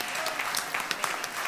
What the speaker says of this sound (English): let's give our first-timers another round of applause.